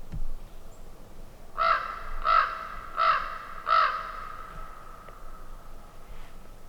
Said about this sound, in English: All we got is crows.